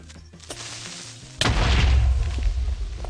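A loud booming explosion in Minecraft bursts out about a third of the way in and rumbles on to the end, following quiet underground ambience and a few faint clicks.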